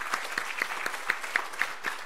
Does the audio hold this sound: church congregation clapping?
yes